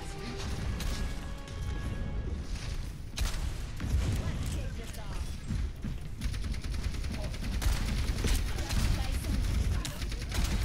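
In the Overwatch video game, turret fire or a hero's alternate weapon fire crackles in rapid, overlapping bursts with scattered impacts, moderately loud and steady, while a voice talks over the shooting.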